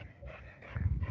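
A dog close by, growling and panting in low rumbling bursts that swell louder toward the end of the short stretch, with no talking over it.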